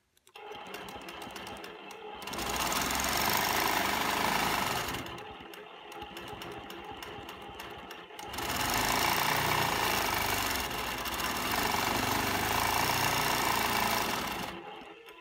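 A sewing machine stitches stacked swirls in free motion quilting, its rapid needle chatter running in long loud stretches broken by two short pauses.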